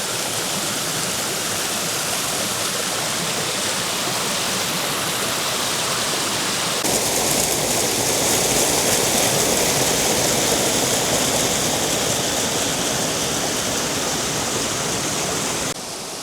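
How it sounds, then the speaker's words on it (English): Water rushes steadily from the Robinette's canal arm into the Nottingham Canal, a dense, constant roar like a small weir, close and loud and swelling slightly midway, with no voices. "Plenty of water in this Robinette's arm and going into the Nottingham Canal, too much, and this is clearly doing its job"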